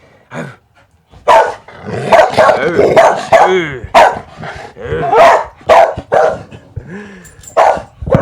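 A dog barks repeatedly at close range, loud sharp barks and yips in an uneven burst, mixed with growly whimpering as it squabbles with another dog.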